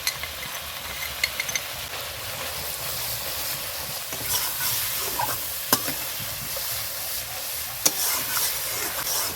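Masala for chicken dopiyaja with yogurt added, frying and being stirred in a pan, giving a continuous loud sizzle and hiss with occasional sharp scrapes and knocks of the spoon, and no speech.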